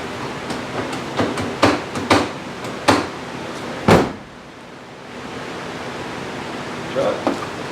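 Several sharp knocks and thumps build to one heavy slam as a Ford F250 7.3 diesel truck door shuts, over a steady background hiss, with a voice heard briefly.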